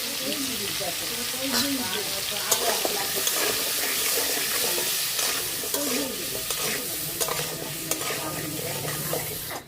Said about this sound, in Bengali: এই তেলে দিয়ে আলু লবণ হলুদের গুঁড়া